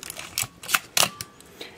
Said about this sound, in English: The shutter is working.